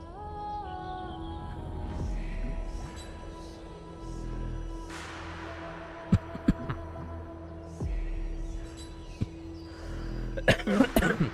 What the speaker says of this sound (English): Sorry for the cough, I still have it.